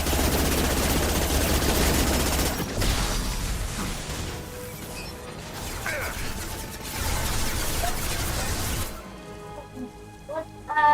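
Gunfire in a video game rattles in dense, loud bursts, then eases into sparser shots, clanks and mechanical noises before a quieter stretch with a few last sharp hits.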